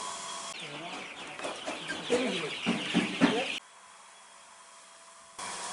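Free-range country chickens on a poultry farm cluck and chatter close by in a busy burst, then the sound cuts to a low hum before resuming briefly.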